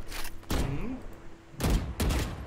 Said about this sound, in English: May mga warning shot coming in.